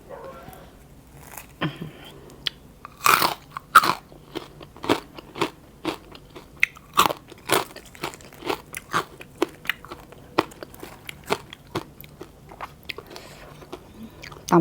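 Crispy fried pork tail crunched at close range alongside a spicy mussel papaya salad, with a long run of sharp, irregular crunchy bites and chews and no talking.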